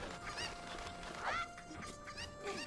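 Cuckoo chickens clucking in the video game Zelda: Ocarina of Time, a few bright squawking calls over a soft steady game background tone, with no talking.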